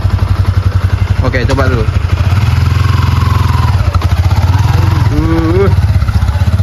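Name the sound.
motorcycle engine running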